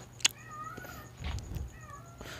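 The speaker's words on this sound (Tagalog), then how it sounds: "Sasalita yung pusa sa labas." A cat outdoors meows several times, a few drawn-out, wavering calls spread across a couple of seconds at moderate distance, with a sharp click near the start and quiet room tone between calls.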